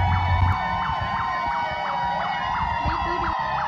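A fire engine siren wails steadily in a rising-and-falling pattern as the truck arrives at a fire in a densely packed residential settlement, loud and close, with low engine rumble beneath it.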